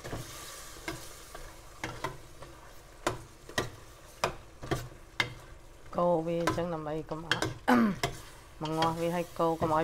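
Red chicken curry is stirred in a sizzling pan, with a spoon tapping the pan in regular ticking strokes over a low frying hiss. A person then starts talking over the stirring.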